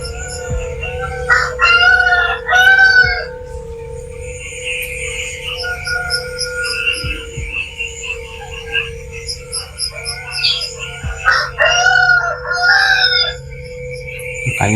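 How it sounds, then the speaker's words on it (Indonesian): A rooster crows loudly several times, with long drawn-out calls, over a steady electrical hum and occasional clucking. "Soalnya udah terdengar suara ayam"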